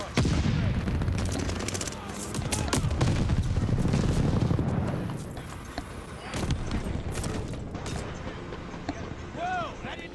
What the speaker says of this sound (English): Allies pulled an airstrike.